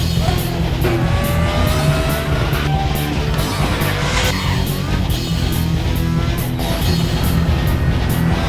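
A Praga race car screams around Spa-Francorchamps in a sim racing game, its engine loud and close throughout, with steady high revs, gear-change dips and faint tire squeal.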